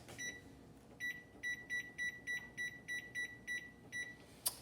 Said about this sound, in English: so the timer has went off.